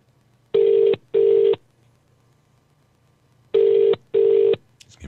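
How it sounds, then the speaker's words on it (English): Ringback tone of an outgoing telephone call, two paired bursts of steady electronic ringing separated by a long pause, loud and close with no talk. "It's ringing now."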